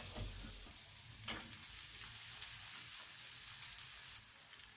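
Steady sizzling of ginger sautéing in hot oil for a vegetarian salna, close and continuous, with a brief stir or clink early on and no talking.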